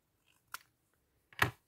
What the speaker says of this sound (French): Je vais prendre les petits ciseaux.